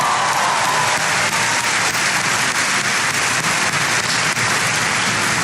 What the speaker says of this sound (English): Please give Cynthia a big round of applause for the great introduction.